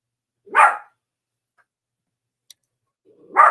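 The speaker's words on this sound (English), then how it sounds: "You might have heard my dog growling." A dog named Roscoe gives two short, sharp barks a few seconds apart, close and moderately loud, with near silence between them.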